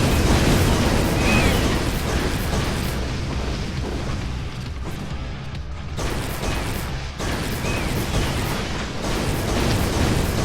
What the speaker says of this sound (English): Let's go with some fire. Some explosions in there